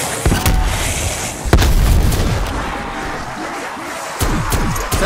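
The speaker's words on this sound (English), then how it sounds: "Semtex going out." A Semtex grenade goes off in a zombie video game, heavy booming blasts with sharp cracks at intervals among rumbling game noise, loud and close, with no talk over it.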